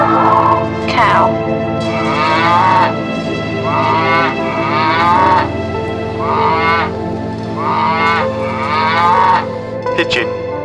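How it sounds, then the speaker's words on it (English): A cow lows repeatedly and loudly at close range, sounding a series of about five long, harmonic moos in a steady rhythm over a constant low drone. "Cow."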